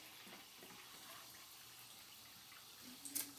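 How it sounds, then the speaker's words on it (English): Soda water pours into a glass until it is about a third full, a faint steady trickle and fizz at close range with a small splash near the end. "So I'm going to fill this glass about a third full with soda water"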